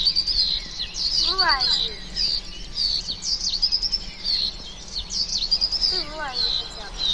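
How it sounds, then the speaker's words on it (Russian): Birds chirp in the Minecraft video game, with high repeated tweets running steadily through the clip, and someone speaks briefly over them. "О, бедные птички застряли."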